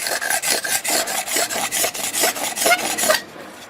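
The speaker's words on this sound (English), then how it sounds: "So we're just going to keep scraping off all that extra stuff on there." A blade scrapes a dried sotol stalk smooth for a hand drill fire, making close, steady rasping strokes in a quick regular rhythm of about a dozen passes before stopping abruptly.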